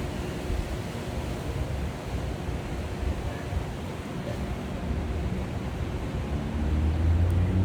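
Strong wind blows outdoors in a park, buffeting the microphone with a steady, low, rumbling roar that swells slightly toward the end, with no talking.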